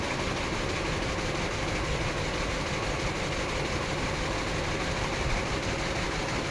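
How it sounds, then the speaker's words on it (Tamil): Power looms running together in a weaving shed make a loud, dense and unbroken mechanical roar with a fast clattering texture, steady throughout with no pauses. "இன்றைக்கி எல்லா தறியுமே ஓடிட்டு தான் இருக்குது."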